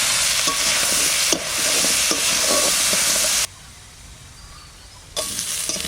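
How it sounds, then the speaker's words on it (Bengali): Potatoes and prawns fry together in a pan, a loud, close, continuous sizzle with light stirring scrapes that drops to a quieter hiss for a moment before surging back. "আলুটাও ভাজা হয়ে গেছে, চিংড়িটাও খুব সুন্দর ভাজা হয়েছে"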